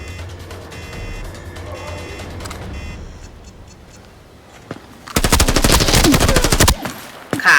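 Rapid automatic gunfire bursts loudly in a sustained volley in the video game Arena Breakout Infinite, preceded by quieter game ambience with faint chatter and clicks.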